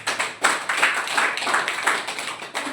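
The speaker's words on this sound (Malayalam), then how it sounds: "നല്ലൊരു കൈഡി കൊടുക്കുക, കൈയടിച്ചോ" An audience at a home business meeting claps together in a dense, steady burst of applause, loud and continuous throughout with no speech over it.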